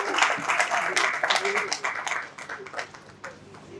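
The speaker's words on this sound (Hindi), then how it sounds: "तालियों की करतल ध्वनि के साथ पुनः हमारे अतिथियों का स्वागत कीजिए, अभिनंदन कीजिए" Audience applause welcoming guests at a literature festival in Banaras, a dense continuous patter of many hands clapping that slowly thins toward the end, with speech mixed in underneath.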